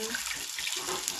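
Water poured into a mixer grinder jar during cooking, a short steady hissing splash of running liquid, close and even from start to finish.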